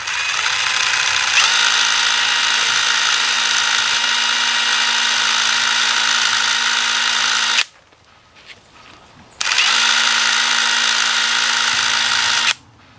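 A wire wheel brush spins steadily to clean a BMW piezoelectric fuel injector, giving a loud continuous whine that runs about six seconds, stops briefly, then resumes for another three seconds before cutting off.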